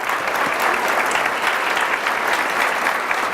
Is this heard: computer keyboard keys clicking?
no